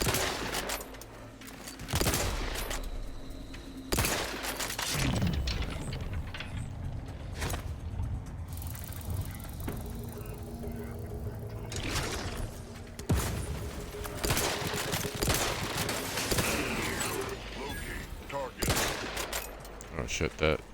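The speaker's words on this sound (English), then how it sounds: "that mech really did shoot me up" A mech in the Outer Worlds 2 video game sprays machine gun fire at the player in several loud, rattling bursts separated by short pauses, with mechanical clanks mixed in.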